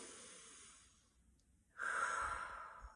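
Slow breathing in and out during a children's calming tapping exercise, a soft breathy exhale fading, a quiet pause, then a louder, close, airy breath sustained to the end, with no talking.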